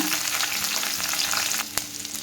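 Chopped large onion and two slit green chillies fry in hot oil in a pan for a brinjal biryani base, a steady close crackling sizzle with light stirring scrapes and one brief knock, no voices.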